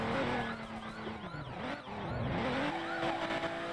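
A car driven in the video game Liberty County roars steadily with a loud, continuous engine drone whose pitch rises and falls, some screechy tones mixed in, and no voices.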